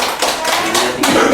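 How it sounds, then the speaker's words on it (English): Students in a classroom clap for a group about to present, a short burst of hand claps in uneven bursts with a voice heard faintly underneath. "Give applause."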